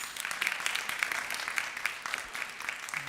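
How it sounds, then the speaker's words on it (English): Audience at a birthday celebration in Jersey City, NJ applauds a Bhajan group, a fairly quiet, even patter of many hands clapping heard from a distance for about three seconds. "I want all of you to give a big round of applause to this Bhajan group."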